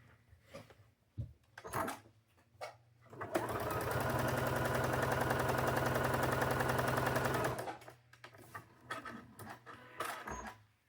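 A sewing machine stitches along a pressed fold line while piecing a fabric chicken block, running steadily for about four seconds between quieter handling noises and brief clicks.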